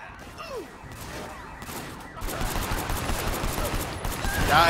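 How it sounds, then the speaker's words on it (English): Heavy gunfire in the Hong Kong action game Sleeping Dogs, with rapid overlapping shots that swell from scattered bursts into a dense, sustained barrage, and some game voices beneath. "We have a heavy gunfire situation."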